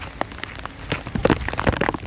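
Rain falling during Typhoon Carina, a steady patter with scattered louder drops striking a surface close by, growing busier toward the end, with no voices.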